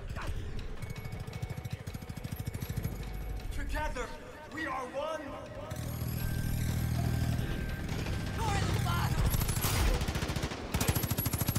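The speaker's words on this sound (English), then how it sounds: "I guess I better switch over to a machine gun." Automatic machine gun fire in the video game Far Cry 5, dense rapid bursts mixed with other in-game gunshots and mechanical clatter, loud and steady across the clip with game voices and speech over it.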